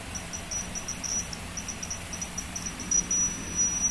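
A thin, high-pitched electronic chirping from a homemade earthquake alarm falsely triggered by air from a room fan, intermittent pulses that flutter on and off over a soft background hiss.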